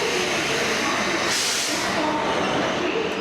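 A passenger train on the new Santragachi–Digha service pulls into the platform, a steady, loud rumble and hiss of wheels and carriages sustained throughout, with a brighter swell of noise midway and no voices.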